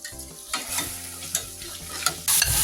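Carrots sizzling in olive oil in a cooking pot while being stirred, with close scraping and clacking of the spoon, then a louder hiss swelling near the end.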